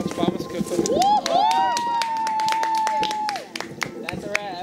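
On a film set at the wrap, people clap in sharp, scattered bursts, close by, while voices call out and one sustained vocal note rings over the applause.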